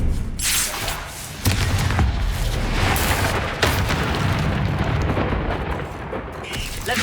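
Explosive Confringo spell blasts in the video game Hogwarts Legacy, heavy booming bursts with sharp onsets and rumbling tails amid continuous combat noise, loud and close.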